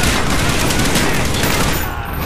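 Dense, continuous gunfire from Call of Duty: Black Ops, a sustained barrage of overlapping automatic shots filling the whole stretch, loud and close, easing slightly near the end.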